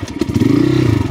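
A heavy motorcycle engine rumbles close by while bamboo slats of a bridge clatter and rattle beneath it, a brief rough passage.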